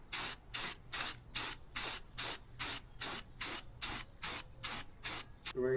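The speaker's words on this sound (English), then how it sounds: "We're going to spray on some blue gloss protective enamel on top of that" Blue gloss protective enamel hisses from a spray can onto Yamaha YZ85 motorbike parts in a steady series of about a dozen short, evenly spaced bursts, close and loud, with no talking.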